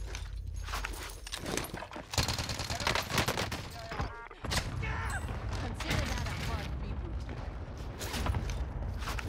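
Rapid, sustained AMAX assault rifle gunfire in a Warzone match on Rebirth Island, loud bursts crackling almost continuously, with a short lull near the middle and talk over the shooting.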